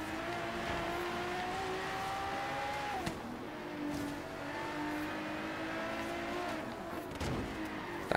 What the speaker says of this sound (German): Der Wagen fährt sich wirklich einwandfrei.